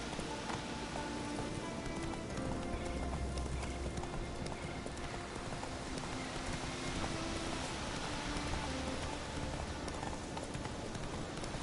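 Hooves of the horse Roach clip-clop steadily in a video game, a brisk rhythmic trot over a constant hiss of rain, with no voices.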